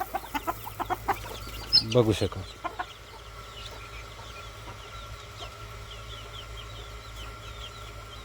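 Chickens cluck and scratch close by, with a short burst of talk and bustle early on, then steady soft clucking over a quiet outdoor background.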